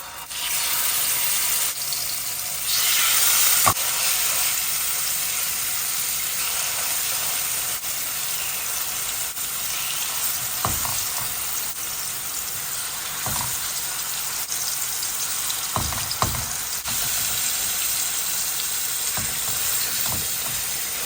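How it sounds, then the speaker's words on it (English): Chicken sizzles steadily in a hot frying pan for a one-pan chicken malai, a constant close hiss with occasional soft clinks and stirring knocks, no voices. "So this hopefully is nice and hot, and I can get a really good sizzle in this."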